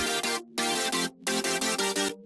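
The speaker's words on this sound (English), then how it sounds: "I layered the chords with the color bass vibe." Layered synth chords with a color bass character in a drum and bass drop: bright, dense stabs in rhythmic bursts with brief gaps between phrases, loud and upfront, no voices.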